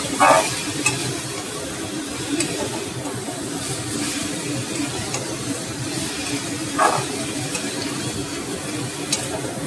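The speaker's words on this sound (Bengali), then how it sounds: "এত অল্প তেল দিয়েছি, একটু নাড়তে হবে, না হলে কিন্তু লেগে যাবে।" Food frying in very little oil with mustard paste to follow, a low continuous sizzle and hiss with occasional stirring scrapes, fairly soft and steady, no voices.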